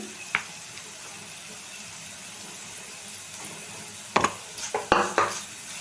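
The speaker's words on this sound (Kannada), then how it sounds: "ಇವಾಗ ನಾನು ಕ್ಯಾರೆಟ್ ತುರಿನ ಆ್ಯಡ್ ಮಾಡ್ಕೊಳ್ತಾ ಇದ್ದೀನಿ" Grated carrot tipped into a hot pan for Kannada carrot palya and stirred, giving a faint steady sizzle with a few clustered scraping and stirring clatters toward the end.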